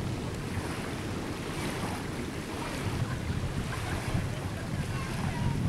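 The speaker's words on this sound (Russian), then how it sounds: "никак не пройти вот через этот прибой. Он достаточно сильный" Strong surf breaking on a barrier reef off Tahiti, a loud, continuous rushing roar with surges and heavy wind buffeting the microphone throughout, no voices heard.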